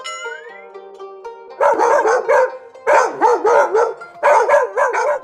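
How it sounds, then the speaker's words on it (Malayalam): Dogs bark in rapid, loud bursts of several yaps each, grouped into three clusters separated by short pauses, following a brief musical phrase at the start. "കാട്ടിൽ എത്രയാ പട്ടികൾ?"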